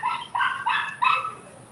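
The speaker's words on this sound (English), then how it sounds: "Even the dog chiming in on that shit, man." A dog barks four times in a quick, fairly close series of sharp, bright woofs, each burst rising out of a low background hum with short gaps between them.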